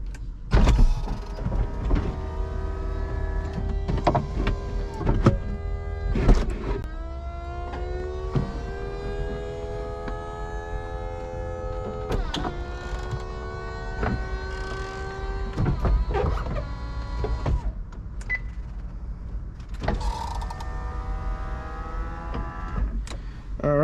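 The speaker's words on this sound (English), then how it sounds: "Let's put the top down on this one." Convertible top of a Ferrari 488 Spider retracting, an electric motor whining in rising and falling tones broken by mechanical clunks and clicks, close and moderately loud, running in stages.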